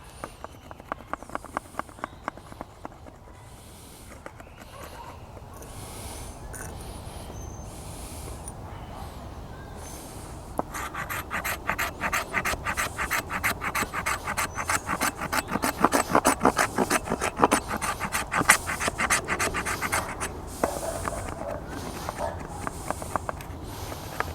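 A Farson hatchet from Fremont Knives scrapes fine shavings off an old, weathered piece of fatwood, making repeated short dry rasping strokes. The scraping is sparse at first and then becomes dense and steady, close and clear, with no talking.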